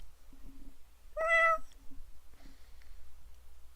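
A single clear cat meow rises close and distinct for about half a second, surrounded by quiet room tone and a few soft, faint vocal murmurs before and after.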